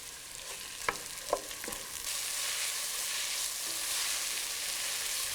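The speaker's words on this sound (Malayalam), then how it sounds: "വെളിച്ചെണ്ണ ചൂടായി കഴിയുമ്പോൾ ഇതിലോട്ട് നമ്മൾ കട്ട് ചെയ്ത് വെച്ചിരിക്കുന്ന 2 സവോളയും ആവശ്യത്തിന് ഉപ്പും ഇട്ട് വഴറ്റുക." Sliced onions with salt sautéing in hot coconut oil, a few sharp utensil clinks at first, then a broad continuous sizzle that holds steady and close, with no talking.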